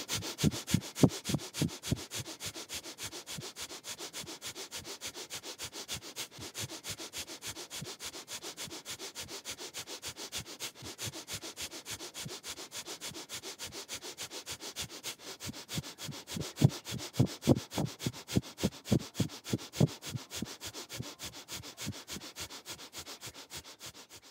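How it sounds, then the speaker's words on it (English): Kundalini yoga breath of fire: rapid, evenly spaced nasal exhalations pulse nonstop for over twenty seconds, close and sharp, with a few stronger breaths partway through. "and begin the breath of fire."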